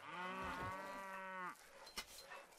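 Cattle in the medieval castle-building game Stronghold HD give a long, loud, close moo, followed by a few faint thuds and rustles.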